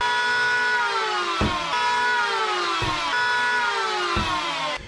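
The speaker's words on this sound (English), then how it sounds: "let's just put a quick chamfer on these" A power tool chamfers about an eighth of an inch off the edges of wooden panels aboard a wooden boat, a loud whining motor that dips in pitch under load in three passes, with sharp bites as the cutter meets the wood.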